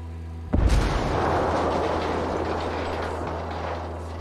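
Heavy gunfire in the tactical shooter game Ghost Recon Wildlands erupts suddenly as a loud booming blast, then carries on as a sustained dense roar of shooting over a low steady rumble, with no talking.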